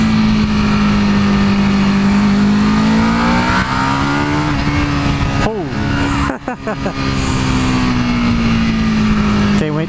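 A big-engined EBR 1190RX motorcycle drones loudly at low speed, its engine note rising and falling with throttle and a brief dip during a gear change, over heavy wind rush from the ride.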